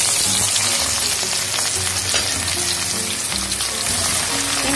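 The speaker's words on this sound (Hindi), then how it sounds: "अब इस ऑयल में हम ये डाल देंगे, इनको अब हमने अच्छी तरह फ्राई करना है।" Squeezed bitter gourd peels frying in hot oil, a dense crackling sizzle with low spattering pops, close and loud without pause or speech.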